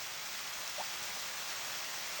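Steady, even rain hiss fills the farm scene of the video game Harvest Moon: Back to Nature, a faint continuous wash of falling water with no other sounds or voices.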